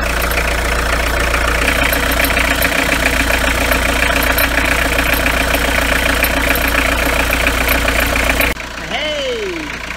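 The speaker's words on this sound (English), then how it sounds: "I'm just going to start the engine up just to make sure there's no general squealiness" A motorhome engine idles loud and close with a steady low throb and mechanical clatter, then cuts off abruptly near the end, leaving a quieter background.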